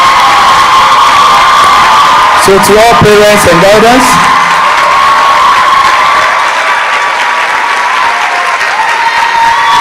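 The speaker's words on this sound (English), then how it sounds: "A thunderous applause." Loud applause and cheering from a ceremony audience for newly qualified medical and dental practitioners, with a burst of shouts around the middle, while an amplified speaker talks over the crowd throughout.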